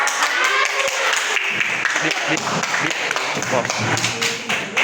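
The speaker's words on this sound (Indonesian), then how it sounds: "Tepuk tangan untuk kelompok." A class group claps in a burst of applause after a group presentation, dense overlapping hand claps with voices mixed in, fairly loud and nearby.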